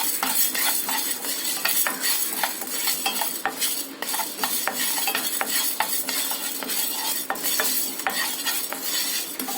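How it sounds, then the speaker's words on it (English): Chana, moong and tur dal dry roasting in a pan, giving a continuous dry rattle and rustle with frequent sharp ticks and clinks from stirring against the metal, fairly close and steady for the whole stretch, no voices. "Now we have to dry roast all these ingredients separately."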